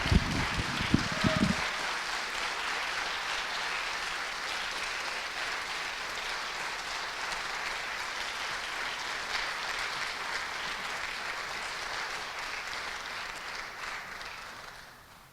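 Sustained audience applause at a multi-faith Juneteenth revival, dense and steady after a few brief knocks at the start, holding strong for over ten seconds before tapering off at the end.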